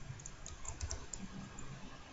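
Quick light keystrokes on a computer keyboard, a short soft run of taps close by over faint background noise, no talk.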